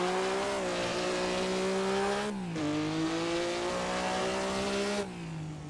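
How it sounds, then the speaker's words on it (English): A 1950s THR 250F race car engine in a racing video game at Monaco drones loudly and steadily at high revs, its pitch dropping at two gear changes, with no talk over it. "This car's kind of quiet until you get going, then it's quite loud."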